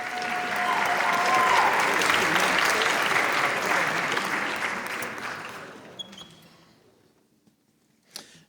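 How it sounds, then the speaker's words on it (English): An audience applauds the Rahway High School Madrigals at a ceremony, dense sustained clapping that fades away over several seconds into near silence, with a couple of faint knocks at the end. "Another round of applause for them"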